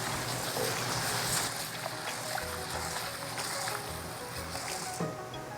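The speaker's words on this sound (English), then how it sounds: "So I really need to wash the rice and then put it in the pot. So we're gonna give it a quick rinse." Rice being rinsed in water before going into the pot for Caribbean peas and rice: a steady, close wash of sloshing, splashing water with faint grainy swishes, continuous for several seconds with no talking.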